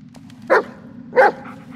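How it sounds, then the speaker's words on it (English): A dog gives two short, sharp barks spaced about half a second apart, fairly close, over a low steady background hum. "The dog trying to tell me something."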